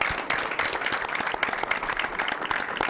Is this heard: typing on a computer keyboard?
no